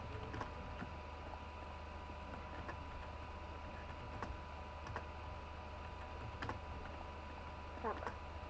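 Faint, scattered clicks of typing on a new computer keyboard over a low steady hum, with irregular keystrokes spread across the background.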